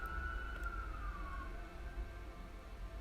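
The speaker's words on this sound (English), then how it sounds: "sorry, that was a siren." A passing emergency vehicle's siren drifts in as a single tone sliding downward over a couple of seconds, heard from a distance beneath steady low background rumble.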